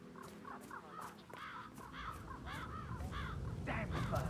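Crows caw in Hitman, a flock calling over one another in harsh, repeated bursts that grow denser and louder toward the end, above a low ambient murmur.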